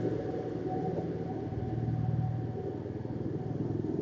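A motorcycle engine idles and rumbles close by, pulsing unevenly as the clutch slips and the bike lurches back and forth on an incline, with a low throbbing swell midway.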